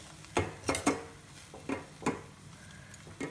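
A spoon scrapes and knocks against a pot while biryani is stirred, giving a handful of quiet, close clinks at an uneven pace with short pauses between them.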